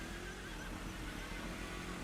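A horse neighs in the Farming Simulator 25 video game, a faint whinny over a steady low hum of game ambience with no talking.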